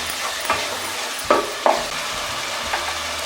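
Ginger garlic paste fries in a pan for chicken biryani, a steady close sizzle broken by a few sharp stirring scrapes and clinks throughout.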